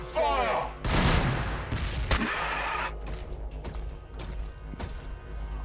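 Rapid bursts of gunfire and heavy impacts from a battle in the strategy video game Battlesector Blood Angels, with loud crashing volleys up front that thin into scattered shots and rumble.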